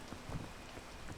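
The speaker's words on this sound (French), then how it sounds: "Il pleut." Rain falls in a video game, a soft, faint steady patter with a few slightly louder drops and no talking.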